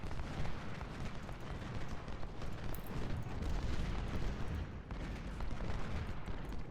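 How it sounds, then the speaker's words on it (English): Civil War field artillery in Ultimate General Civil War booms in a dense, continuous roar of distant cannon fire and rumbling blasts, layered so thickly that individual shots blur together. "Artillery firing."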